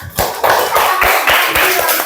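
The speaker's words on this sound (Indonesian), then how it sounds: "Tepuk tangan untuk kita terlebih dahulu." A classroom group of students claps together for about two seconds, a dense, uneven patter of many hands that stays loud and steady throughout, with no talking over it.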